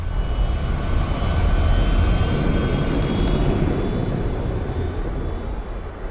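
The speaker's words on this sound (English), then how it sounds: "He watched Bruit's shuttle drop from azure skies, fly over the complex and set down on a circle of permacrete." A Star Wars shuttle roars overhead and descends to land on a permacrete pad, a loud, sustained, broadband engine rumble that swells and then slowly eases off.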